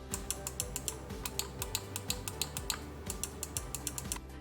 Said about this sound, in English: the triggers are a bit louder and sound more like mouse clicks